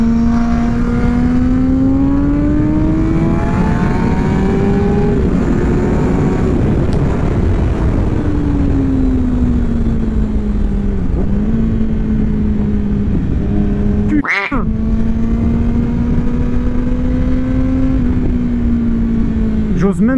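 A 200-horsepower Kawasaki Ninja ZX-10R sport bike engine sounds loud and close as it accelerates through a long pull, its tone climbing, easing and swelling again under steady wind roar, broken by a brief sharp knock.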